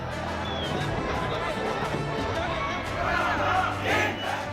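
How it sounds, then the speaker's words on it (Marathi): A huge crowd of Maratha protesters from across the state cheers and roars at Azad Maidan, celebrating a reservation victory, with a dense, loud and continuous mass of shouting voices that swells near the end. "आरक्षणाची लढाई जिंकल्यानं आझाद मैदानात राज्यभरातून आलेल्या लाखो मराठा आंदोलकांनी जल्लोष केला."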